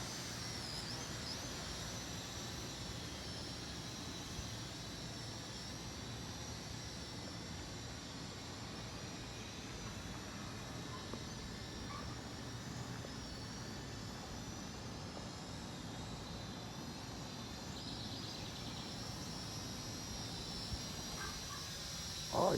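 A Makerfire camera drone with 1080p camera flies at a distance, giving a faint, steady whirring buzz that holds level throughout with no talk.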